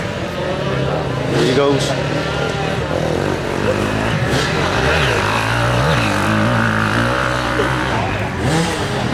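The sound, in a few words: motocross bike revving and accelerating at a sprint start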